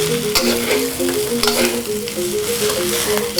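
Rice frying in a pan with melting butter and sesame oil, a steady close sizzle broken by scraping stirs and clinks, with no talking.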